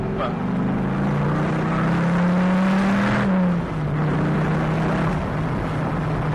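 A Dodge Viper SRT/10 pulls hard in second gear, its deep engine note loud and steady from inside the car. The tone rises, dips briefly around the shift, then carries on under a low whir.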